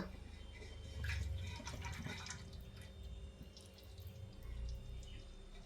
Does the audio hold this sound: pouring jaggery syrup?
yes